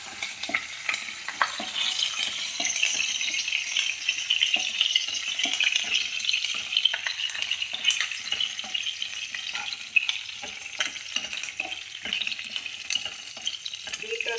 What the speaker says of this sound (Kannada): ಉದ್ದಿನ ಬೇಳೆ ಕಡಲೆ ಕೆಂಪಾದ ಕೆಂಪಾದ್ಮೇಲೆ ಈರುಳ್ಳಿ ಹಾಕೋಣ